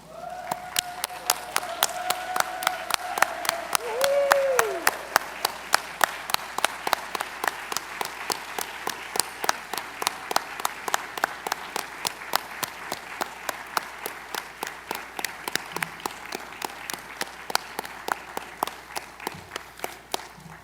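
Sustained applause from a standing convention audience honoring employees at a general session, a steady dense patter of many hands clapping close by, with a brief voice and tonal sound early on over the crowd.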